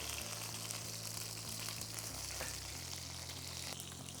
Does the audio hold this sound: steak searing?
yes